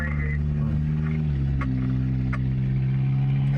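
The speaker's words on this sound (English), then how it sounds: "That's a loud Kia." A loud Kia car drives past with a deep, steady engine rumble that stays strong and close throughout. A few faint clicks sit on top of the drone.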